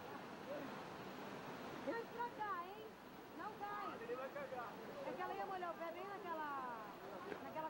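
A strong, cold river current rushes steadily near a waterfall at Chapada dos Guimarães, a continuous broad wash of flowing water under children's and adults' voices and chatter.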